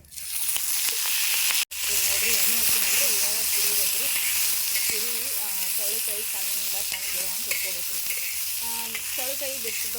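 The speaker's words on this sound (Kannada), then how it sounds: "ಈಗ ಇದಕ್ಕೆ ಎಣ್ಣೆ ಹಾಕಿಬಿಟ್ಟು ಹುರ್ಕೋತೀನಿ ನೋಡ್ರಿ ಚೌಳಿಕಾಯಿ" Chopped cluster beans frying in hot oil in a village kitchen, with a steady loud sizzle and hiss throughout and scraping stir strokes, broken by one brief sharp cut near the start; people talk intermittently over the cooking.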